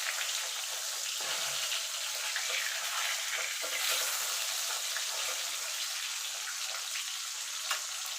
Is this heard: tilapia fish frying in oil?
yes